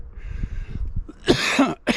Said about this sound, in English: I then start to cough a little bit. So that's what you're hearing.